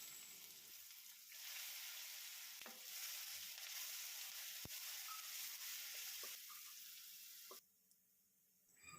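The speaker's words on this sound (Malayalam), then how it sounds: "ഇനി ഈ വെളിച്ചെണ്ണ ചൂടാകുമ്പോൾ അതിലേക്ക് കടുക് ഇടാം. ഈ കടുക് പൊട്ടിക്കഴിയുമ്പോൾ" Mustard seeds crackle and pop in hot coconut oil for a Kerala-style thoran, a steady close sizzle and spatter under a faint background hum, quieting briefly near the end.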